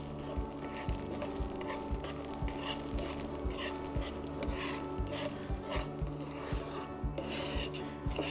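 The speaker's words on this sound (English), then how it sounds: "2 and 3 small cardamoms, green cardamoms, and let's little take out the aroma from the spices." Green cardamom pods sizzling in a hot pan, a continuous close crackle with regular scraping stirs over a low steady hum, no talking.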